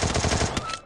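A loud, close burst of rapid automatic gunfire from the video game Free Fire, the shots cracking in quick succession for under a second.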